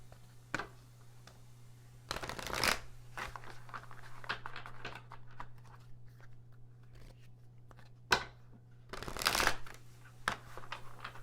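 Tarot cards being shuffled and handled, a few loud riffling bursts separated by softer sliding and tapping of cards, close and clear over a low steady hum, with no talk.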